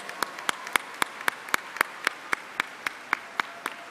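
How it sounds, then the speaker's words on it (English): Audience applause at a convocation ceremony: a small group claps in a slow, steady rhythm of sharp, evenly spaced single claps, close and clear with no talk over it. "let's give this group that's coming up a big, big round of applause"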